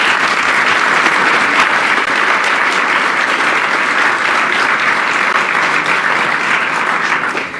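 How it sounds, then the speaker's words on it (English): Steady, dense applause from a large audience at a political event with Ontario NDP leader Andrea Horwath, loud and sustained for several seconds before tapering slightly at the end. "A round of applause, please, once again."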